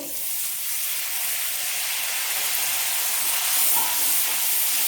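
Steady hiss and sizzle from a hot pan after a small splash of water goes into a lentil filling for Bengali kochuri, with broad steamy noise lasting throughout, close and fairly loud, no voices.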